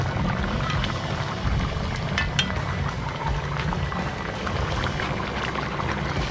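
Sauce is poured and sizzles over stingray stewing in coconut milk beside roasted breadfruit, a continuous dense bubbling and hissing close by, with no talking.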